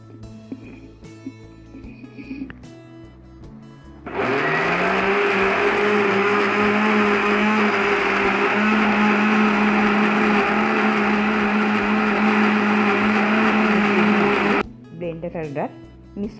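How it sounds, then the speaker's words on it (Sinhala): A kitchen blender grinds coconut chutney with garlic, red onion and tamarind, a loud steady motor whir running for about ten seconds; quieter kitchen sounds come before and after it. "සුදු ලූණු රතු ලූණු ඊළඟට සියඹලා ඉෂක් දාලා මේකට හොඳට බ්ලෙන්ඩර් කරලා යුතුයි"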